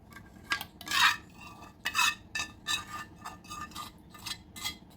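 A spoon stirs fresh turmeric pickle masala in a pan, making a steady series of close, rhythmic scraping strokes against the metal, about ten over a few seconds, with no talking.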